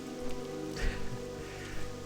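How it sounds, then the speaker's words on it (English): Rain falls in Felwood in the World of Warcraft video game, a steady patter of drops on surfaces with a few louder splashes over an ambient tonal backdrop, no speech. "Another rainy day in Felwood."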